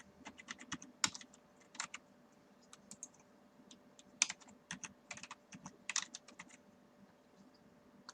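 Keystrokes on a computer keyboard while entering summary data into a REDCap form, irregular clicks and bursts of typing at close range, fairly quiet, with no talking.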